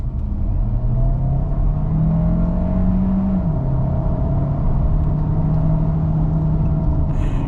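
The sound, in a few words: 2025 Kia Sorento PHEV accelerating at full throttle from 25 mph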